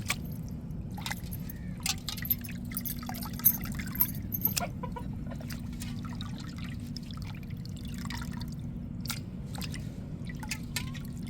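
Goat or lamb intestines are washed by hand in water in a home kitchen, with scattered drips, splashes and squelches over a steady low background hum and no talk.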